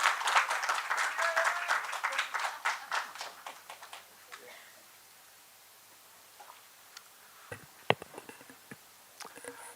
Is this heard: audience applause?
yes